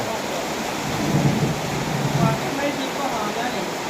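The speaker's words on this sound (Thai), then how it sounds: "ฝนตกหนักนะครับ" Heavy rain pours down in a dense, steady roar, with low thunder rumbles swelling briefly a couple of times and a voice faintly underneath.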